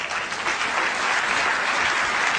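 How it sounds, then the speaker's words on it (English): An audience at a math magic show applauds volunteers joining the performer on stage, giving a thick, continuous wash of clapping that holds at an even level for the whole stretch. "let's give these volunteers a nice round of applause."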